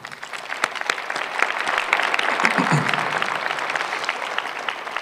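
Clapping hands fill the room at an EMS graduation ceremony, a dense, steady round of applause from the audience lasting throughout.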